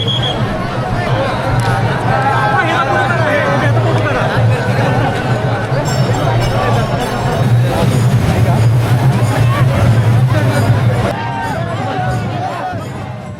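A dense crowd of devotees packs the Pattan Kodoli yatra festival, steady loud babble of many voices throughout with overlapping chatter and occasional higher shouts, a continuous hubbub close around.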